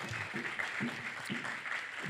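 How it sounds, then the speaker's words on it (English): Audience clapping at a cultural awards ceremony, a steady broadband patter of many hands sustained over two seconds, with faint voices showing through underneath. "clap it up"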